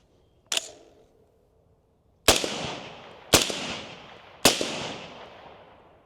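Four suppressed rifle shots from supersonic ammunition through an Omega 9K silencer go off nearby, each a sharp crack with a short decaying tail. The first stands alone, and the last three come in quicker succession.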